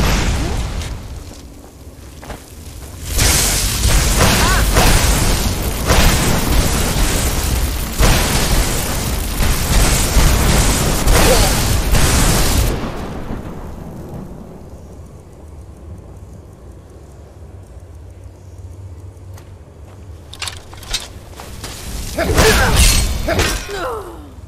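Storm Call shout in the video game Skyrim, played on PS5, unleashing a thunderstorm: loud booming, crackling blasts roar for about ten seconds, fade into a quiet rumble, then another burst strikes near the end.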